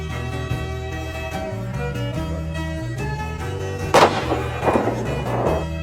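A gunshot in a Western film, fired to put down a horse badly injured after hitting a tree. Two sharp bursts cut through a sustained musical score near the end.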